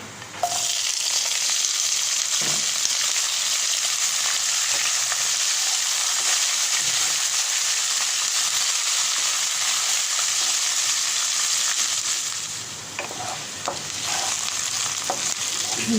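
Onions and green chilies fry in hot oil with reddening garlic in a pan, a loud, continuous sizzle that holds steady throughout, with faint clinks of a utensil near the end.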